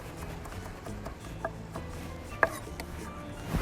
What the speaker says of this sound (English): Give it a little run through with the knife.